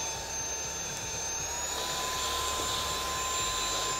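Meco handheld vacuum/blower running steadily at its second speed setting, a continuous loud whine with a high tonal hum and airflow roar throughout, no talking.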